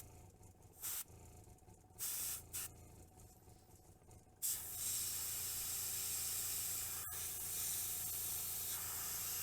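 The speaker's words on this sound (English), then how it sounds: "Spray that up into the mouth a little bit there." Aerosol spray paint hisses onto an orc miniature model: a few short bursts, then one long steady close spray that runs to the end.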